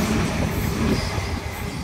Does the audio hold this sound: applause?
no